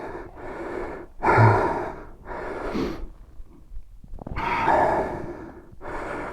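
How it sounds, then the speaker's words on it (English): A rider pants heavily after a hard climb on a dual sport adventure bike in Shropshire, with several loud, close gasping breaths and snorts at an uneven rhythm and pauses between them. "That's got me breathing."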